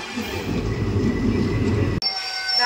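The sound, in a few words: train arriving and stopping at a station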